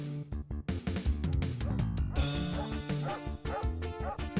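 Several dogs bark and yip in a video game, a dense, busy cluster of overlapping barks close at hand over a steady game backdrop.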